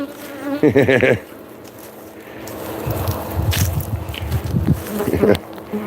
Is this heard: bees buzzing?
yes